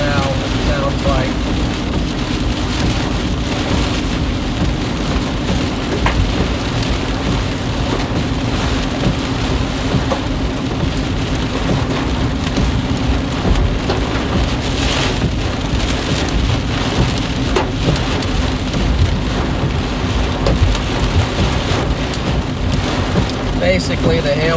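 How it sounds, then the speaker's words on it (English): Heavy rain and baseball-size hail pound a car driving into a Kansas storm's hail core, a dense, constant roar of impacts with engine rumble underneath throughout. "Driving into some hail now,"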